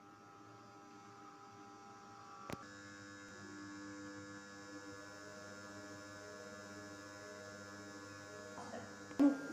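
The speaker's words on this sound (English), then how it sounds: "The motor has started moving" A DC shunt motor starts up and runs on a bench, a faint steady electrical hum and whine with a couple of sharp clicks from switching.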